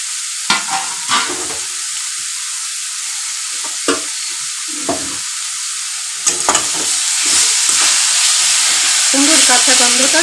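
Pumpkin and potato curry stirred in a frying pan, repeated spatula scrapes and knocks against a soft sizzle that grows louder toward the end.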